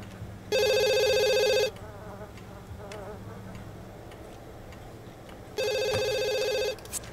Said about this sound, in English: with the phone ringing all the time